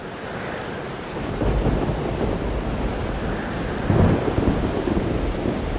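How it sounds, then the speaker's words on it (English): Thunderstorm in the video game Life is Strange Double Exposure: steady heavy rain with low rumbling thunder swelling near the end, a continuous dense wash with no voices. "Weather's worse than I remember it. Storm followed me."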